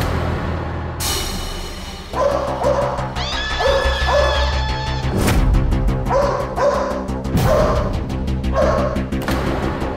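A dog barks repeatedly in short loud yelps and whimpering cries mixed with hooting tones and background music, close and insistent over about ten seconds.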